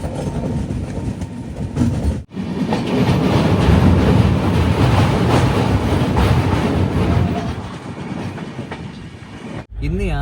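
Vivek Express passenger train rolling along the rails on its Dibrugarh to Kanniyakumari run, a steady rumbling clatter of wheels and carriages heard from on board, with a brief dip near the start and another near the end.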